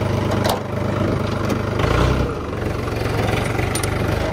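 A tractor engine idles close by, a steady low rumble that swells slightly now and then, heard alone without talk.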